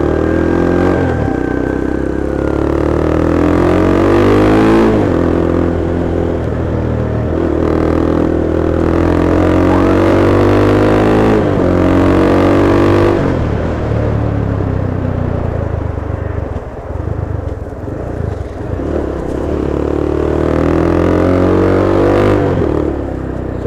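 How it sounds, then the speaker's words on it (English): A ROKK 150cc motorcycle engine, styled as a KTM Duke replica, revs up and down repeatedly, loud and close, with a deep rumble that rises and falls in pitch throughout. "the most perfect thing about these motorcycles are the way they sound"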